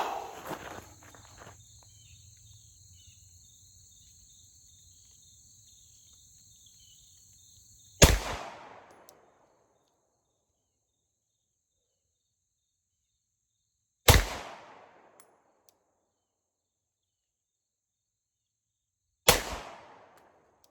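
Three slow, deliberate pistol shots from a Shadow Systems MR920 handgun fired for accuracy at a range, each a loud sharp crack with a short decaying tail, spaced several seconds apart after a stretch of faint hiss and electronic noise.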